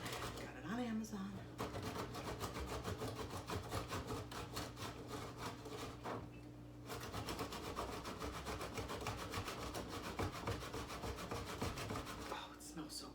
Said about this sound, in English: This is my new grater. It's got a bunch of different sides.